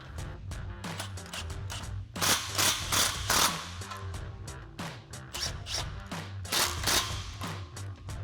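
Socket ratchet clicking as exhaust clamps are snugged on a Charger's Corsa cat-back exhaust with X-pipe, close metallic ratcheting in repeated bursts amid clanks and shop noise.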